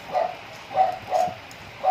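A dog barks four times in short, evenly spaced yips, fairly close, with no talking.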